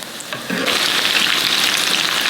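Salmon croquettes frying in a pan of oil, a steady close hiss and crackle that swells after a brief quieter start and continues evenly without talk.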